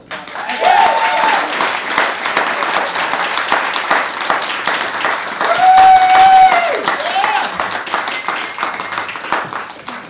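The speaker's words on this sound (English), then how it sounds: "Let's give another round of applause." A studio audience at a late-night comedy show breaks into a full, loud round of applause, with dense clapping and scattered cheers and whoops running steadily for the whole stretch.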